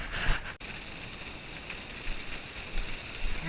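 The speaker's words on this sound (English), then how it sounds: "because it is pouring rain" Steady, pouring rain falls on a canoe-trip portage trail in the backcountry, a constant hiss of drops with faint patters throughout and no talking.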